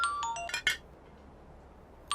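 A mobile phone ringtone plays a few quick, bright melodic tones, with a final short chime after a pause, all quite faint against a quiet room in a Telugu movie scene.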